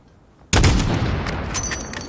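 Single loud rifle shot at a distant target in Call of Duty Modern Warfare, a sharp blast after quiet that rolls into a long, fading echo.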